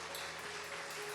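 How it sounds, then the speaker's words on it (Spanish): Congregation applause during a Spanish-language church family service: a continuous, even spread of clapping over a brief stretch, moderately quiet, with a faint steady tone underneath. "Damos un aplauso poderoso al Señor."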